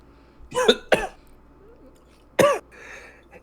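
Three sharp, close coughs after water went down the wrong pipe: two in quick succession, then a pause and one more, with quiet room noise between.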